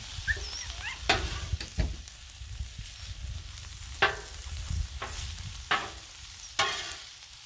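Beef fried rice sizzles steadily on a hot Blackstone griddle, broken by several sharp scraping and clanking strokes of a spatula at irregular intervals.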